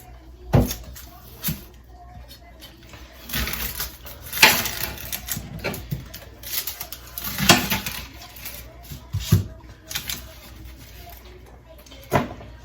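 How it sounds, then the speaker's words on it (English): Onions being cut in a home kitchen, with sharp, irregular knocks and clatter of a knife against a board and utensils, fairly close, over quiet room noise and no talk. "gonna cut some onions."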